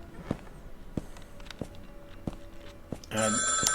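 In the Turkish horror video game İblis, a telephone suddenly starts ringing with a loud, bright electronic trill after several sharp footstep-like thuds spaced across a quiet interior.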